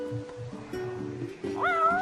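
A cartoonish cat in the Final Fantasy XV video game meows repeatedly over looping game music, short mid-pitched calls ending in a rising, drawn-out meow.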